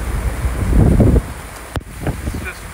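Strong wind gusts roar at sea aboard a sailboat near a hurricane, a loud continuous buffeting rush that swells and eases, with wind battering the microphone.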